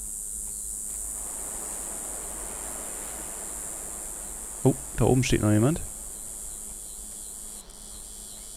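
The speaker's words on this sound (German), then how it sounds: "Seid ruhig, ihr Grillen, ihr verratet uns doch." Crickets chirp in the horror video game Betrayer as a faint, steady high-pitched drone that runs the whole way through. Someone speaks briefly in the middle.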